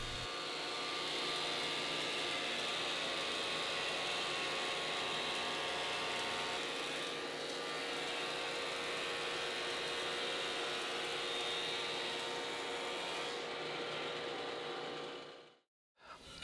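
A jointer planes one face of a red cedar stern post for a wooden boat, making a loud, steady mechanical roar with a whining tone that runs unbroken before cutting off abruptly near the end.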